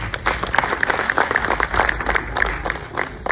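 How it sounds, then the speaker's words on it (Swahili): A crowd applauds at a music launch event for an album, steady dense clapping filling the space throughout with no voices over it. "Naomba tumpigie makofi mengi sana"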